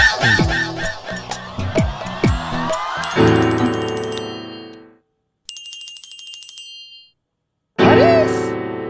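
A phone ringtone chimes in repeated electronic bursts separated by silent gaps, following some voices and music at the start.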